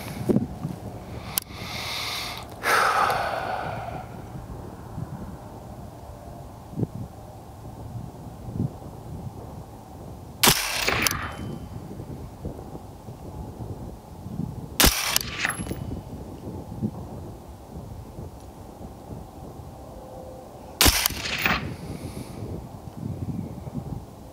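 Four sharp gunshots from a Palmetto State Armory Sabre MK12 rifle crack out at spaced intervals across an outdoor range, each a loud broadband burst over a steady background of wind and low rumble.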